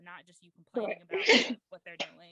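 Someone sneezes once, sharply and close, partway through a conversation, while another person keeps talking in a relaxed indoor exchange.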